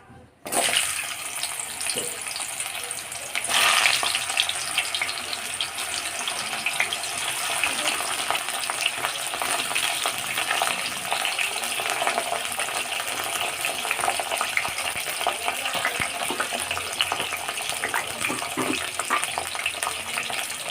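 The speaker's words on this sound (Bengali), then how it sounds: "তেল আমার গরম হয়ে গেছে এবার আমি একটা একটা করে সবজি ভেজে নেব প্রথমে আমি উচ্ছেটাকে ভেজে নেব" Bitter gourd pieces frying in hot mustard oil, a steady dense sizzle after a brief quiet start, with a sharper burst as the vegetables hit the oil, continuing evenly and close throughout with no talk.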